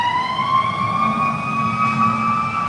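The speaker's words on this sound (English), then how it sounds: "oh, here come the sirens" A fire engine siren wails steadily, loud and fairly close, its pitch sliding slowly with heavy engine rumble beneath.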